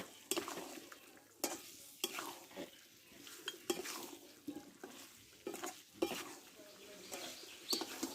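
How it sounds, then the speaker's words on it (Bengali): Potatoes and mutton stir-fried together in a pan, a spatula scraping and knocking the metal in irregular strokes over a soft sizzle, close but fairly quiet, with no voices. "এবার আলুটা আমি দিয়ে দেবো দিয়ে এবার একসঙ্গে আমি কষতে থাকবো"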